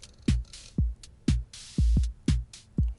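A programmed electronic drum pattern from a ZOIA drum synth sequencer patch: booming synthetic kicks thump in a steady loop with hissy hi-hat ticks, one beat falling slightly behind the grid.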